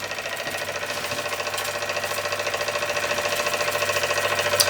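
A little Kassner model steam engine with a vertical boiler runs steadily with its burner turned low, giving a rapid, even, close-up mechanical chatter that slowly builds in loudness.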